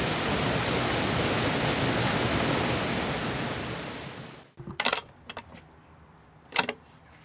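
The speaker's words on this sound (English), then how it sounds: "This is the mill, and you can hear the water flowing through the building." Water flows through an old mill building in Wiltshire with a loud, steady rushing roar for about four seconds. It then cuts off, leaving a few close knocks and jangling clatters in a quieter room.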